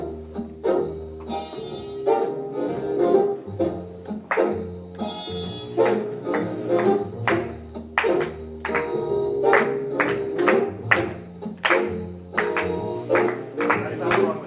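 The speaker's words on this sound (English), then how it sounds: "go ahead and try to lightly clap the 2 and 4 that we heard" Light, steady hand claps land on beats 2 and 4 over a jazz song with a walking bass and piano, the claps soft and regular beneath the music.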